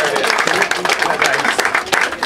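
Applause from a crowd greets a raccoon named Rocky taking a bow after a tabletop zigzag trick, steady dense clapping with a voice cheering over it for a couple of seconds.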